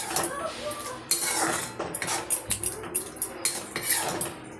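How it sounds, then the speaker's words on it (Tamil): Spinach being stirred in a cooking pot for keerai kootu, with repeated clattering scrapes and knocks of a metal ladle against the vessel in an uneven rhythm, close and fairly loud. "இப்போது நல்லா கிளறி விட்டுக்கணும்."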